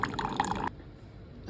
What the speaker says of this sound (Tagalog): Sinagyan natin ang tubig. Kunti lang.